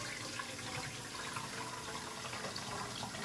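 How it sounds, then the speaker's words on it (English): Liquid is poured back into a strainer while making jerky, a steady close rush of pouring and trickling that stays even throughout. "I'm going to pour this back in to the strainer"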